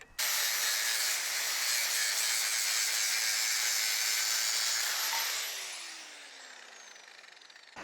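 Metal tubing being cut for an adjustable Miata control arm, a steady loud high-pitched sawing whine that runs continuously for about five seconds, then winds down and fades as the blade spins to a stop.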